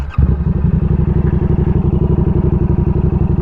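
A motorcycle engine catches on the starter and settles into a loud, close, steady rhythmic putter, running alone without talk.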